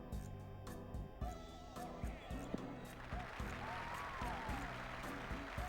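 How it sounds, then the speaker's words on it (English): A small gallery at a golf tournament applauds after a mid-iron approach shot for birdie, with faint, distant clapping and scattered cheers that carry on steadily through the moment. "Oh, Bill, the crowd has gone absolutely berserk down here, all 7 of them"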